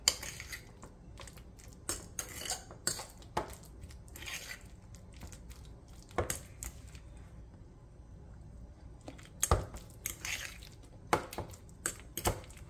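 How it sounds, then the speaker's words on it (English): Strawberries are mixed into softened cream cheese for a quesadilla filling. A utensil makes quiet, irregular clinks, squishes and scrapes against the bowl, with no voices. "It's easy to mix the strawberry, guys, if your cream cheese is soft."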